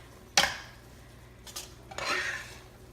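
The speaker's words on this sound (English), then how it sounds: "So let's stir it." Stovetop stuffing being stirred in a pot, with three separate scraping strokes of a spoon against the pot. The sound is quiet and fairly close, with short pauses between the strokes.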